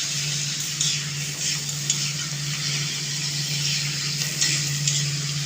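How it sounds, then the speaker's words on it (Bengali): Dry spices fry in hot oil with onion, ginger, garlic and a splash of hot water for a Bengali chicken and potato curry, a steady close sizzle with soft scraping stirs and light ticks, no talk. "আমি মশলাগুলো ভালো করে কষে নেব আর তার সাথে আমি মাংসটা দিয়ে দেবো"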